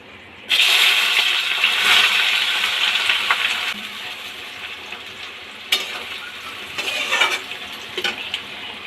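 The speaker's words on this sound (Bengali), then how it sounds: "এখন আমি পেঁয়াজ কুচনো দিয়ে দেব।" Chopped onion drops into hot oil already seasoned with cumin, bay leaf and dried chilli, bursting into a loud, bright sizzle that slowly eases, with occasional stirring clinks and scrapes later.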